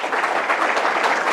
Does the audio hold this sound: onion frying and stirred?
no